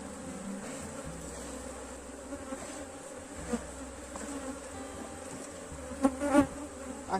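Honey bees buzz steadily around a populous hive during a colony split, a dense, continuous drone with a few louder passes close by near the end.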